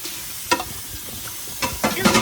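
Peanut butter and butter being mixed together in a bowl for oatmeal chocolate cookie dough, close and fairly loud, with a few thick scraping, squelching strokes of the mixing utensil and a quiet hiss between them, no talking.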